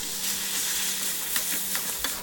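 Spaghetti goes into a pan of golden-browned garlic and frying oil, a loud continuous sizzle and hiss close by with a few faint clinks near the end.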